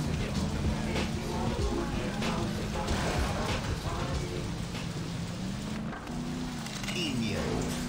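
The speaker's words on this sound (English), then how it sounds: "Man, it's fucking raining hard as shit." Steady heavy rain pours throughout with a dense hiss, over a continuous low rumble and tonal game-like background sounds in the video game Saints Row (2006).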